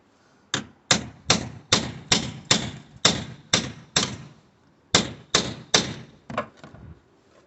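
Hammer blows on a headless starter motor bolt on a VW Golf 1.6, about a dozen sharp metallic thuds in a steady rhythm, close and loud, with a short pause partway through.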